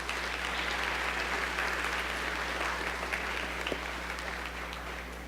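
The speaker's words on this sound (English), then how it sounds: "Can we give them another round of applause?" Dense, steady applause from a school audience at a speaking competition, a continuous wash of many clapping hands over a low electrical hum, with no talking.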